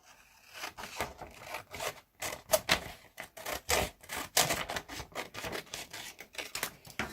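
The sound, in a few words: scissors cutting paper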